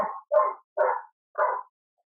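A dog barks four times in a steady, evenly spaced series, fairly close and clear, with silence between each bark.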